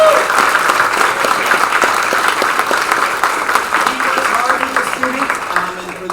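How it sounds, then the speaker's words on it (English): Loud, continuous audience applause in a school concert setting at an elementary spring instrumental concert, dense clapping with some crowd voices mixed in, tapering slightly toward the end. "If we could give him a round of applause ahead of time."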